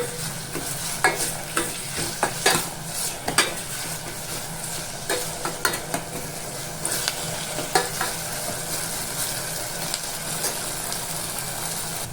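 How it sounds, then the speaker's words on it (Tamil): Tomatoes sauté in a pan over high flame, stirred with a rapid run of spoon clacks and scrapes against the metal that later slows and thins out, all over a constant low sizzle, without speech. "நல்லா வந்து கொஞ்சம் ஹை ஃப்ளேமில் வச்சு நல்லா வந்துட்டு தக்காளி வதங்குற மாதிரி பண்ணிக்கலாம்"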